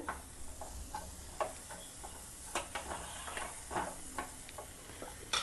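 Ragda with plenty of fresh coriander is stirred in a pan over a soft frying hiss, with light spoon taps and scrapes recurring every half second or so, fairly quiet and without talk.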